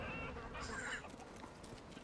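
A chicken in the video game Modern Warfare 3 gives a brief clucking call over low game background noise, fairly faint and short.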